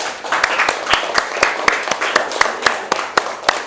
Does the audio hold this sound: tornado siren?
no